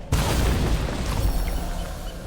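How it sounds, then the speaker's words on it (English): A bomb detonates in the fantasy strategy game Age of Wonders 4, a sudden loud deep boom that hits at once and rumbles on, slowly fading over about two seconds with no voices. "I'm gonna bomb you."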